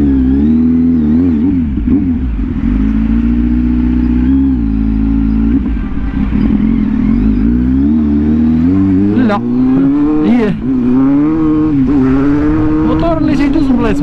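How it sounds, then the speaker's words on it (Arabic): A Kawasaki Z800 motorcycle ridden through city traffic, its engine droning loud and close with rising and falling revs and sharp throttle blips toward the end, while a rider talks over it. "كيبقى لنا خوتي نجربوا الموتور في وسط الزحام شويه نشوفوه في الزحام كي كيدير"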